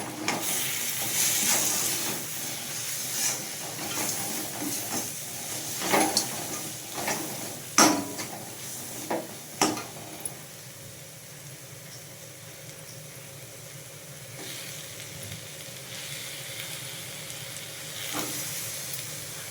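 Onion and tomato sautéing in a pan for a tamarind-free sundakkai (turkey berry) kuzhambu, a steady close sizzle and hiss with a few stirring scrapes and clinks.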